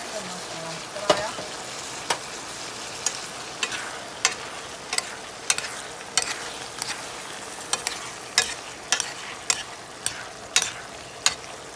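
Chopped tomatoes, plum and regular, frying and being stirred in a pot for a Somali stew, a constant close sizzle punctuated by regular sharp clicks of a utensil against the pot, with no talk.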